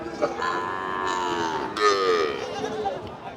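A Sahiwal calf at a cattle market moos in two drawn-out calls, near and fairly loud, over a background of market noise.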